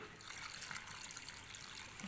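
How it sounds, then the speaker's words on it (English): Clear water pours onto mango pieces being prepared for a traditional pickle, a soft continuous trickling splash, faint and steady with no voices. "This water will go to the pieces of mango."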